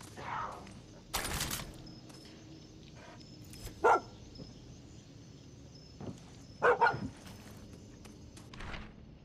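Boom Boom, a dog in Far Cry 6, lets out a few sharp barks in short bursts between quiet stretches, mixed with scattered gunfire-like cracks and faint background game ambience.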